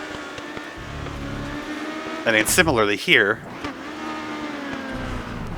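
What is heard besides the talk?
race cars driving in the video game Grid Autosport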